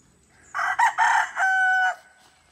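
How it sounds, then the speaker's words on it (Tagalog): A rooster crows once nearby, a loud, drawn-out call that breaks into a couple of short bursts before a long held final note, over quiet surroundings. "May manok din sila dito."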